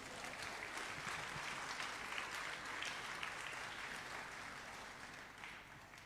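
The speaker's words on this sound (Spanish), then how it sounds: "Un aplauso al Rey de Reyes." Church congregation applauding for the King of Kings during a sermon, a dense, steady wash of clapping from many hands that fades slightly toward the end, heard alone without speech.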